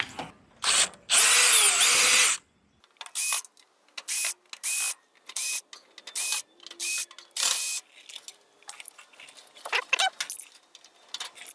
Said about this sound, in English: we'll have to undo a couple screws to get this faceplate out of here